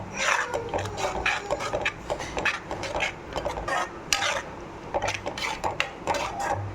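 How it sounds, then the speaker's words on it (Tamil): Tomatoes with salt are sautéed in a pan, a spoon scraping and clinking against the metal in quick, irregular strokes, close and moderately loud, with no voices. "இப்போ நல்லா இதையும் வதக்கணும்"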